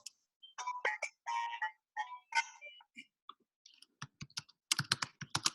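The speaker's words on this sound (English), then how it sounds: "just typing out HubSpot blog." Typing on a computer keyboard, quick irregular bursts of key clicks close to the microphone, fairly quiet, with a faster cluster of keystrokes at the end.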